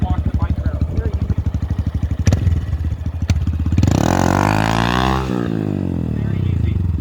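A Honda Grom small motorcycle engine idles with a steady low putter, then revs up sharply and holds high RPM with a rising whine, someone talking over it.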